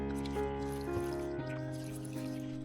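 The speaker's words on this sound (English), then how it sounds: "Rinse directly with clean water to wash away all mud, old substrate, fungal spores, and bacteria still clinging to the stem, base, and roots" Clean water running and dripping over an orchid's stem, base and roots, with a steady trickle and splashes close by and no voices.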